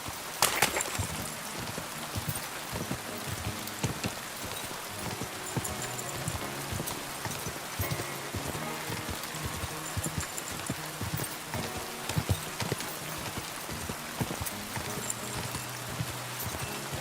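Horse hooves clip-clop in a steady, even walking rhythm, faint to moderate, with a light patter like rain or rustling underneath throughout.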